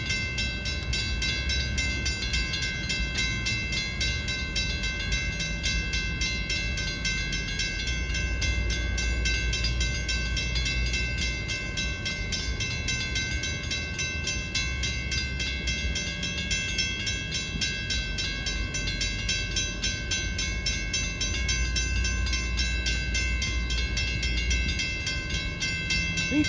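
A three-car Long Island Rail Road local train to Jamaica rolls past with a steady rumble and high metallic whine that holds throughout, continuous and fairly close.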